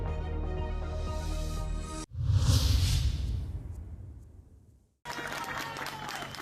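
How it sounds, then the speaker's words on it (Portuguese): Applause and crowd noise welcoming new rescuers in Venezuela, a dense burst of clapping that swells and then fades over a few seconds, between stretches of other steady sound. "Na Venezuela, os novos socorristas são recebidos com palmas e abraços."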